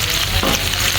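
Tomatoes and Thai chilies frying in a pan with ginger-garlic paste while cooking Thai-style fish, a loud, dense, close sizzle that holds steady for about a second, with no voices.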